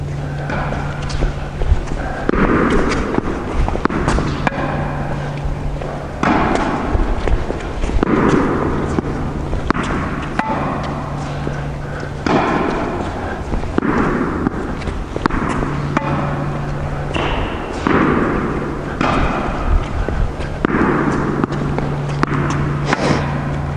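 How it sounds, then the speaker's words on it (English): Tennis ball struck back and forth in an on-court rally, the player stopping it with the racket grip before hitting it back; sharp hits land about every two seconds in a steady rhythm over constant background noise and a low hum. "I'm going to try to rally with my partner and stop the ball with the grip and then rally it back."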